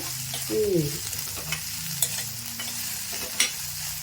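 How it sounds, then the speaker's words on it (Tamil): Drumstick flowers sautéing in a pan for an egg stir-fry, a soft continuous sizzle with several brief scraping stirs and light clinks of a spoon, no voices present. "நல்லா கொஞ்சம் இது வதக்குனீங்கன்னா எல்லாம் வெந்துடும்"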